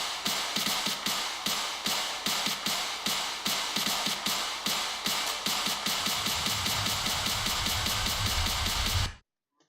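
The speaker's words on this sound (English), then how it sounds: "Alexander literally just put like a fill build up thing here for the build up" Electronic build-up fill in an FL Studio remix, a dense, loud wash of rapidly repeating hits that tighten in rhythm and intensify before cutting off abruptly.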